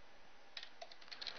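Keys tapped to enter a website address on a computer keyboard, a quiet, irregular run of light clicks spread over a second, faint and close with no talking.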